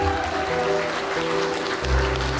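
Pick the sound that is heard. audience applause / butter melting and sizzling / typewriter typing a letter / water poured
audience applause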